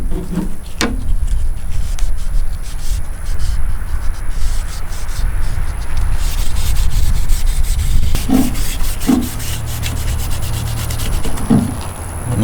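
Black walnut hull stain being rubbed by hand onto a black locust wooden bow, a steady soft scrubbing hiss that runs close and continuous, with a few faint knocks along the way.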